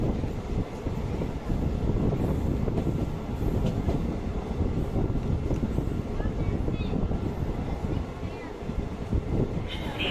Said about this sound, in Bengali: আমাদের ট্রেন এই মুহূর্তে প্রবেশ করলো লাক্সার জংশনে